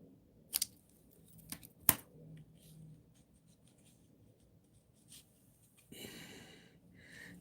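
Paper snipped with scissors while making a Valentine card: a couple of sharp close cuts early on, then quiet rustling and handling of paper, with faint breathing in a quiet room.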